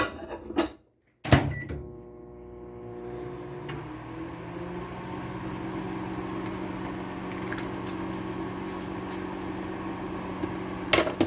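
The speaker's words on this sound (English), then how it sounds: "this is after about a minute on the medium heat setting on the microwave" A microwave oven melting soap base on a medium setting starts with a door or button clunk, then settles into a steady, moderate, humming drone with a low tonal buzz, ending in a few clicks.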